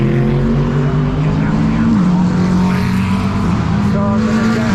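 Race cars circling Brands Hatch circuit on formation laps behind a safety car, a loud continuous engine drone with a steady low pitch that dips and rises slightly as cars pass, dense and close throughout.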